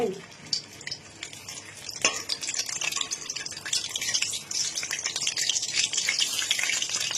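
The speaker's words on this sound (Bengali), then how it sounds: "এবার এগুলো ভেজে নেব, আলুগুলো ভেজে নেব" Boiled potatoes, cooked with food colouring and salt, are fried in a pan for chicken biryani, giving a continuous close sizzle with crackles and occasional stirring scrapes, without speech.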